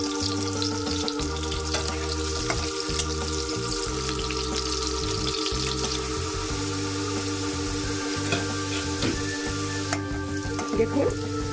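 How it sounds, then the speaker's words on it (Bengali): Potato strips fry in hot mustard oil with a constant bubbling sizzle and occasional spits and crackles, heard up close and steady throughout, with no talk. "আলুটা আমি বেশ লাল করে ভেজে নেব।"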